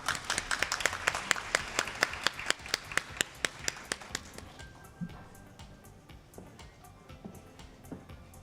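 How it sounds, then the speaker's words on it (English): An audience at an asset management forum in Tokyo claps in a fast, even rhythm to welcome panelists onto the stage. The sharp, close claps run for about four seconds, then fade into quiet room noise with occasional faint taps. "Let's welcome them with a big round of applause."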